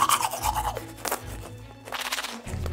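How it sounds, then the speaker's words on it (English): A golden toothbrush scrubs teeth in Roblox Adopt Me, producing a quick rhythmic rasping brush sound in several short strokes, close and clear with no one talking. "it's time to brush my teeth with the golden toothbrush"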